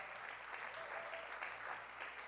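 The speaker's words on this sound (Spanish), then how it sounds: "Dale fuerte ese aplauso al Rey de Reyes y Señor de Señores" Congregation applauding at a church service, a sustained wash of many hands clapping at an even level, heard from a distance and moderately faint throughout.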